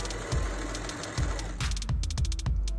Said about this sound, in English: Then I went ahead and sewed it up in my sewing machine